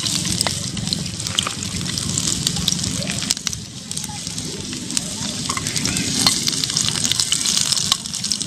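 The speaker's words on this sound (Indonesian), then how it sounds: "Kalau udah panas, kita masukin bawang dan biji pala serta jahe yang tadi udah diiris" Sliced onion, nutmeg and ginger dropped into hot oil for beef steak, crackling and sizzling steadily up close with occasional stirring scrapes throughout.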